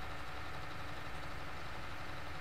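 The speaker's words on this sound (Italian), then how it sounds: "Quel trattore rispetta le norme vigenti del posto." A tractor engine idling in Farming Simulator 19, a steady low rumbling drone that holds even and unbroken throughout, with no voices.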